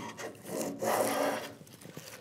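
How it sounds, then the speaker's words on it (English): A hand plane cuts wood on a workbench drawer in a few close, rasping strokes, each one swelling and then fading, with no one speaking. "I go gently and try and feel for the plane as it's cutting"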